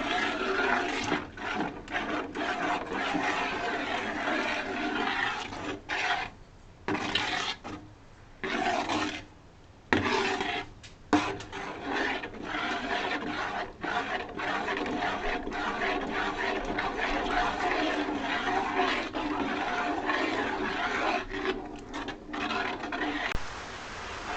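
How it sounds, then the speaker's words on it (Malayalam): Broken wheat payasam being stirred in a pot as it thickens, giving a continuous scraping, rasping texture with short pauses between strokes, close and steady, no talking. "ഇനി നന്നായിട്ട് ഇളക്കി കൊടുത്തുകൊണ്ടേയിരിക്കും"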